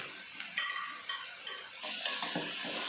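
A spoon stirs a vegetable stew of taro stems and salted fish bones, seasoned with stock powder, salt and sugar, in a pot, giving a continuous wet scraping hiss with a few brief clinks and louder swirls.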